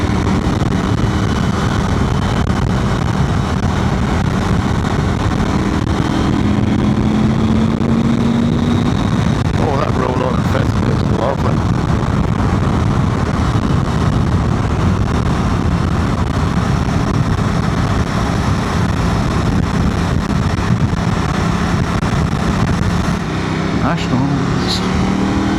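A KTM Adventure motorcycle with an aftermarket exhaust and modified ECU rumbles loud and deep throughout, a steady low roar with wind noise, changing pitch slightly as it rides.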